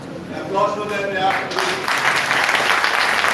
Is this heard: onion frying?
no